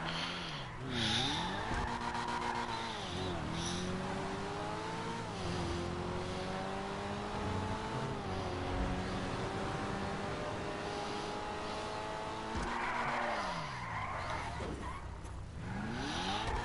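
A car in GTA with an engine droning steadily and rising in pitch through the gears, shifting and revving again midway, loud and continuous with no talk.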